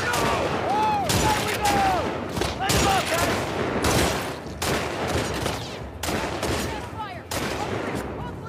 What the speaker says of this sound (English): Heard all the shooting.